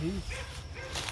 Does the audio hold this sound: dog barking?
yes